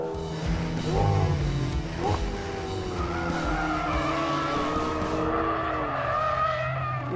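A McLaren 720S drifts with its tyres squealing loudly in long, wavering screeches over a continuous engine roar, held close and steady throughout.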